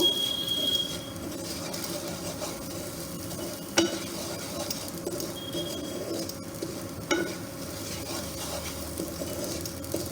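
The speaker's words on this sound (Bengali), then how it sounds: "ঘিটা দিয়ে আরেকটু নাড়াচাড়া করে নেব" Semolina stirred in a pan of ghee: soft, continuous sizzling with scraping and a couple of sharp spoon clinks against the pan.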